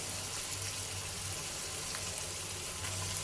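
Soaked moong dal sizzles with onions in a hot pan, a steady, fairly loud crackling hiss with no talking.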